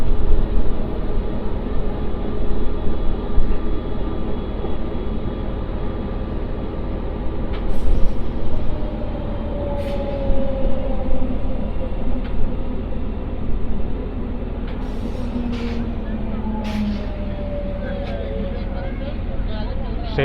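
A MEMU passenger train pulling into Relangi railway station, a steady close rumble of carriages with a faint sliding brake whine, heard from on board for about twenty seconds.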